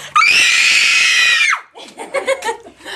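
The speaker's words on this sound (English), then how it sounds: "So let's hear you both scream." Two people let out one long, loud, shrill scream together on a count of three, held for about a second and a half. It cuts off sharply and is followed by excited laughter and chatter.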